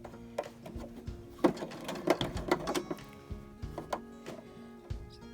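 A sewing machine runs long gathering stitches through skirt fabric, a quiet uneven mechanical clatter of needle strokes in irregular bursts, close and alone.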